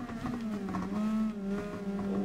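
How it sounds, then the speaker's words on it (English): A Super GT race car driven in Gran Turismo Sport on the Tsukuba circuit, its engine loud and close, a steady high-pitched whine with tones shifting through gear changes and no talk. "this car is so loud, I need to turn my headset down a little bit"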